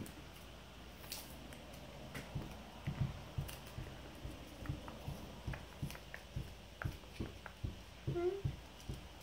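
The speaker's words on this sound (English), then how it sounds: "Sorry about the thumping noise. That's my feet thumping against the ground." Soft, dull thumps repeat in a steady, fairly quick rhythm, like feet striking the ground, faint and close with no talking.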